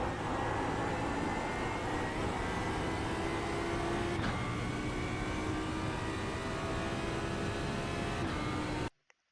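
An Audi R8 LMS EVO II GT3 in the iRacing video game at Sebring roars at full throttle, a loud sustained engine drone with rising pitch and one gear change, cutting off abruptly at the end.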